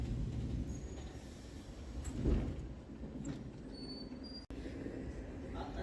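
A Sealdah–Barrackpore galloping local train runs steadily, its rumbling wheels and carriage noise filling the space from inside the coach, with a brief dropout near the end.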